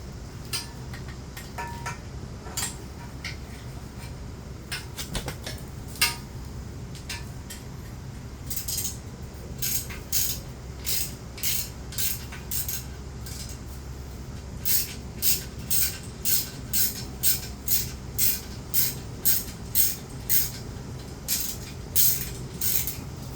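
Nuts are worked off bolts on a flange of a 1978 Yamaha XS750 motorcycle, giving sparse metallic clicks that turn into a quick, regular run of ratcheting ticks, close and fairly quiet over a low background hum.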